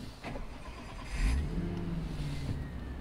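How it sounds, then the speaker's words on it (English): First-generation Lexus IS200 with an added supercharger and manual gearbox, heard from inside the cabin as the engine revs up with a faint compressor whine rising and holding; quiet overall, no talking. "Hear that compressor."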